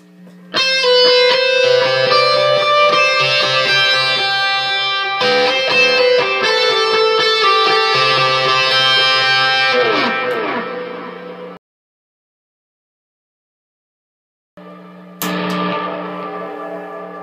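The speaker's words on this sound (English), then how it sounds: "Here's the distortion." Distorted electric guitar through a preamp, with delay and reverb in the effects loop, plays dense palm-muted scale runs and ringing notes for about eleven seconds, falls silent briefly, then starts again, loud and close.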